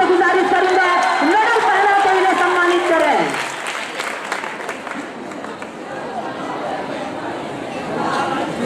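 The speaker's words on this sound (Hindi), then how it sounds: "जोरदार तालियां न्यू शमा के लिए" Loud crowd applause fills a prize distribution function for a GK competition, steady clapping from a large audience with a voice speaking over it at first, then the clapping thins slightly before swelling again.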